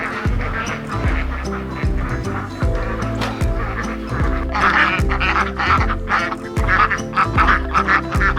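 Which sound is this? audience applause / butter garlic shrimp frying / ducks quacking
ducks quacking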